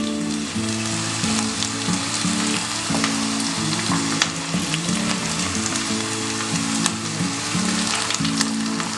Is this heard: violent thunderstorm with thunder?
no